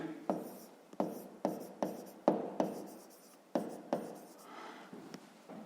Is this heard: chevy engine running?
no